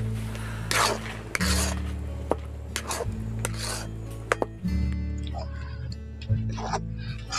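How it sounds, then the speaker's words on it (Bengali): Pitha filling stirred continuously in a wok, a metal spatula scraping and clinking against the pan in repeated strokes over a low steady hum, close by, with no voices. "এইভাবে করে ক্রমাগত কিন্তু পুরটাকে ভালো করে নাড়াচাড়া করতে হবে, নাহলে কিন্তু কড়ার মধ্যে লেগে যেতে পারে"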